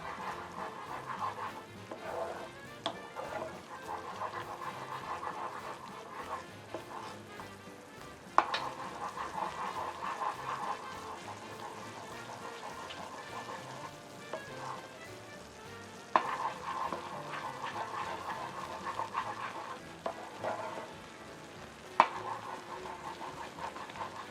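Butter and whipping cream stirred over heat for caramel popcorn: a low, bubbling simmer runs throughout with a few sharp knocks of a utensil against the pot, with no voices.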